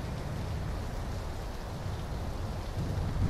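Steady rain in PUBG (PlayerUnknown's Battlegrounds), a dense continuous hiss of falling rain with a low rumbling undertone, even and unbroken throughout.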